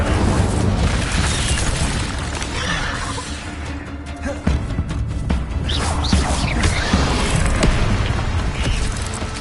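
Incendio fire spells cast in combat in the Hogwarts Legacy video game, producing loud bursts and crackling booms over a dense, busy battle soundscape with no break.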